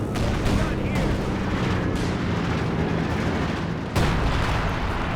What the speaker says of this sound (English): Priest's creeping barrage is ready to go